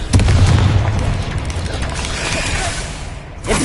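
A Confringo fire-blast spell goes off in the Hogwarts Legacy video game, a loud booming burst with a rumbling low-end tail that sustains through most of the moment before briefly dipping and flaring again near the end.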